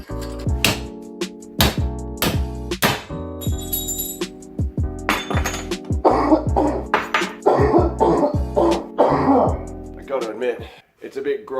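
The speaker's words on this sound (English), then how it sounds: "It's a bit gross coughing into a respirator." A person coughs repeatedly into a respirator mask, with harsh, muffled bursts in an irregular run that grows denser midway, accompanied by throat clearing and breathy gasps beside a steady low hum in a forge workshop.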